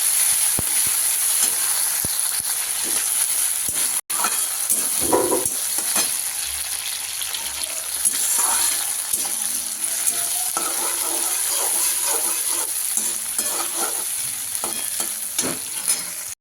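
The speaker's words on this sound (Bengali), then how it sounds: "এরপর এই চিংড়ি মাছগুলো ভেজে চিংড়ি মাছগুলো এবার দিয়ে দেবো, দিয়ে বেশ কিছুক্ষণ ফ্রাই করতে থাকবো।" Shrimp fry in hot oil in a pan, giving a loud, continuous sizzle and hiss throughout with occasional stirring and scraping sounds, and no voices.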